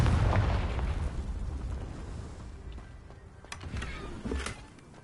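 Confringo fire spell blast in Hogwarts Legacy: a deep, booming explosion opens loud and rumbling, then decays into a long low roar with a few smaller pops and crackles trailing after.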